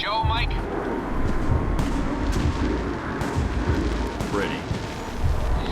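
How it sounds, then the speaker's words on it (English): Fireworks boom and crackle continuously in the spy game Alpha Protocol, a dense rolling barrage of heavy thuds. Brief voices rise over it at the start and again near the end. "The noise from those fireworks should cover the sound of gunfire."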